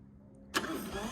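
A 2020 Harley-Davidson Road Glide Special motorcycle engine turns over and fires abruptly after a quiet lead-in, settling into a loud, broadband running rumble up close.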